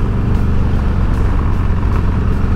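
Engine of a Harley-Davidson Dyna with a 124ci big-horsepower motor while riding, a loud, steady low rumble that runs throughout the clip with no voices.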